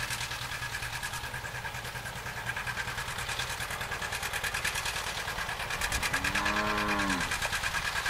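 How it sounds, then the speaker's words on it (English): A tractor pulls a cultipacker across a field being prepared for a sunflower crop, its engine droning steadily and loudly up close with a rhythmic mechanical chatter, swelling slightly near the end. "he's going to go back over it with a cul-de-packer to make sure it's nice and packed down"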